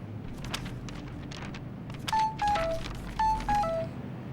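A short electronic melodic tone plays twice in quick succession, clear and close, over faint background shuffling.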